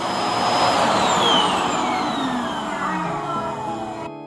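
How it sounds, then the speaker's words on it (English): A Yeedi Vac Station self-emptying dock runs loud and close, a whooshing motor roar with falling whine tones that winds down and cuts off at the end. "the Yeedi Vac Station automatically empties your vacuum"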